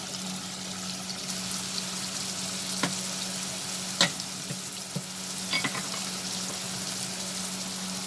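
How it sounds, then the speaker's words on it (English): Chopped onions frying in a hot pan give a continuous close sizzle and crackle, broken by occasional scraping stir strokes and small pops. "Now we are going to add the chopped onions."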